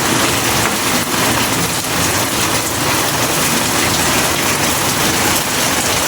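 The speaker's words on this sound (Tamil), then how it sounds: "மழை வருது இல்லையா? மழை வருது தான்" Steady, heavy rain pours down with a dense, continuous hiss and patter, loud and unbroken, with no voices.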